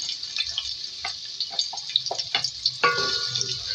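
Three medium onions fry in oil with a soft, continuous hissing sizzle, broken by scattered pops and light clinks of a utensil, quiet and close throughout with a slightly louder crackle near the end.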